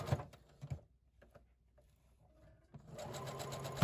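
A sewing machine runs a regular straight stitch over fabric ruffles, with short whirring bursts at the start, a quieter pause with small clicks, then a louder sustained run near the end, close and without talk.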